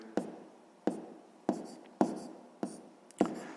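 Pen strokes on paper while working a 6th-grade math exercise by hand, six distinct scratching bursts at a steady rhythm, close and clear with quiet between them.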